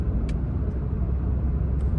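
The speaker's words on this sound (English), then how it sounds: "right now today seems like there's quite some traffic" Steady low rumble of road traffic heard from inside a car driving through Riyadh, a continuous engine and tyre drone with no talk over it.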